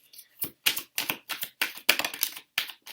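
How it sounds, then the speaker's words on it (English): Tarot cards being shuffled: a series of about eight sharp papery slaps and riffles in an uneven rhythm, close up, with no talking. "I'm shuffling these cards."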